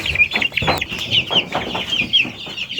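Columbian Brahma and yellow golden Brahma chickens cluck repeatedly at a fancy poultry farm, with the high, rapid peeping of chicks running through the whole stretch, close and fairly loud.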